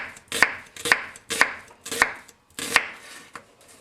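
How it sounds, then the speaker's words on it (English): A Yamashin Funayuki White #1 165 mm knife slices onions into thin julienne strips on a cutting board, with five sharp, evenly spaced chops ringing out clearly and close. "let's julienne some onions and see how it does"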